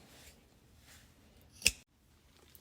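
A single crisp snip of scissors cutting yarn strands on a multi-colour crochet Easter basket, close and sharp against a faint quiet background.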